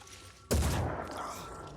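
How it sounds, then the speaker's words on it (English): A single heavy pistol shot hits hard in the video game Phoenix Point, a sharp loud crack followed by a rumbling decay. "Oof, man, those pistols hit hard"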